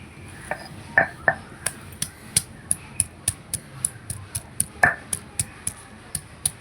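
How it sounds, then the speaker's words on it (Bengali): Ginger, garlic and cumin are pounded into paste by hand, a steady rhythm of sharp, close knocks, about three per second, with a few heavier thuds in between and no talking. "জিরের সঙ্গে আমি আদা রসুনটাও বেটে নেব।"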